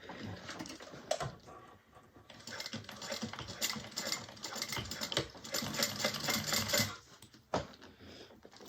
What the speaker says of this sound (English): we're going to sew across at 3/8 of an inch.